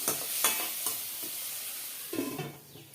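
Turmeric and spices frying in a pan, a soft steady sizzle with a few scraping stirs and a metallic clatter near the end, moderately quiet and close, no talk.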